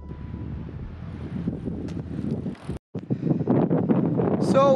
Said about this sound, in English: Like, the wind is really strong.